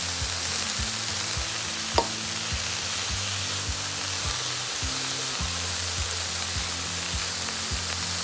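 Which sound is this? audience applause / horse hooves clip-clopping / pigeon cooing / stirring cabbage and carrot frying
stirring cabbage and carrot frying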